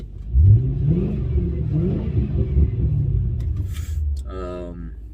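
A 2006 Lincoln Town Car engine rumbles deeply and revs through a modified 5.0 liter Coyote Roush aftermarket exhaust, close and loud, with a voice briefly speaking near the end.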